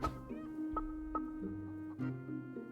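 Chickens cluck in the horror video game Little Goody Two Shoes, several short quiet clucks and calls in an irregular rhythm against a faint background.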